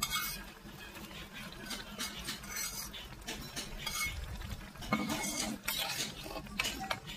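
Koi fish curry (koi macher jhol) is stirred in a pot with a utensil, making soft irregular scrapes and clinks against the pot over a low bubbling background, quiet and close.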